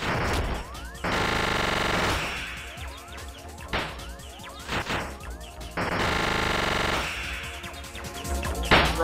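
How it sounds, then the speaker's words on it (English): Homing missiles firing in the video game M. B. Re on PS Mobile, with bursts of blasts, crashes and rapid gunfire-like hits repeating over busy game sound, fairly loud with no talking. "it fires out homing missiles"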